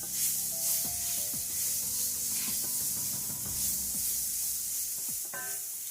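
Vegan curry ingredients sizzle steadily in olive oil in a home kitchen pan, a constant close frying hiss with occasional stirring scrapes and soft clinks.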